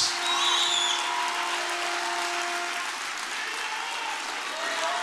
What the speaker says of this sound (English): give God a clap offering of praise tonight